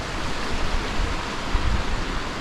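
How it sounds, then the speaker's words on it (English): A small stream and little waterfall in the Lake District pour and splash in a steady, broadband rush that fills the whole stretch with no voices over it. "Nice little stream there, little waterfall."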